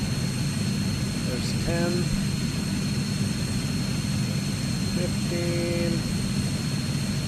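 C-160 Transall turboprop engine number one spinning up on start, a steady loud broadband roar with rising tones, while crew voices talk over it.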